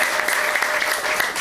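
A church congregation claps together in a dense, steady burst of applause that fills the room for the whole moment, loud and unbroken.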